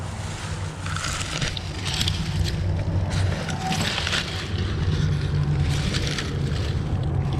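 Gusty wind buffets the microphone outdoors, a loud continuous rumble with rushing surges, no talk.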